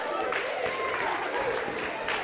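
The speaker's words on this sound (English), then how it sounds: "Give them a massive round of applause" Brief, fairly soft applause from a primary school audience during a talk, a short burst of mixed clapping with a few voices in the room.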